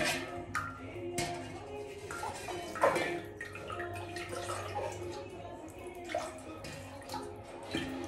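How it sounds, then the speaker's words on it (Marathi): Water is poured over brass utensils, giving a soft splashing and dripping with a few light metallic knocks, fairly quiet and continuous throughout. "नुसतं पाणी टाकून बघा"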